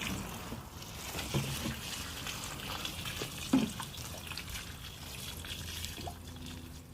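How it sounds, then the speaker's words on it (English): Plants are watered inside a garden polytunnel on a no-dig organic allotment in February; the water trickles and drips softly and faintly, with a few small splashes. "this is the first time in many months that the plants receive some water here"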